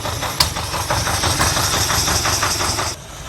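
A 1979 Ferrari 308 engine running but not taking throttle, a steady close idle with a rough, regular pulsing beat and a sharp tick near the start, cutting off abruptly at the end.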